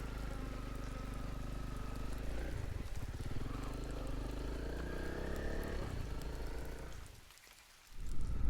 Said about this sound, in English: The rain shower didn't last long.